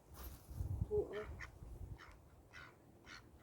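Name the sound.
ducks quacking on Loch Lomond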